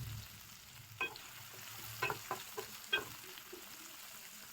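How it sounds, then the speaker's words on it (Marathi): Green chillies fry in a pan with onion and capsicum, giving a quiet steady sizzle broken by a few louder stirring scrapes and crackles about once a second. "त्याला चांगलं फ्राय करून घेतलं. त्याच्यामध्ये आपण ग्रीन चिल्ली पण ॲड करतोय."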